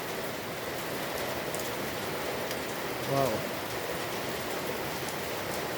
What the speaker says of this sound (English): I don't know, it started roughly, now it's 4 hours, still raining.